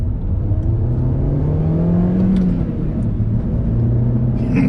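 A Mini Coupe's engine drones and strains as the car climbs a hill, a steady loud low hum with rising and falling pitch and little sign of gaining power, heard from inside the cabin.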